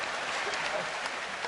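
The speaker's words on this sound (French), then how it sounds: "Viens, applaudissez pour Magnifique." A live show audience claps enthusiastically, a dense, steady burst of applause throughout with no speech over it.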